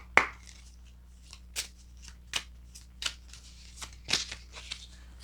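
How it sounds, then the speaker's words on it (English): Tarot cards are shuffled in a series of quick riffles and snaps, about eight bursts spaced unevenly, close up and quiet, with a faint hum underneath. "We're going to shuffle."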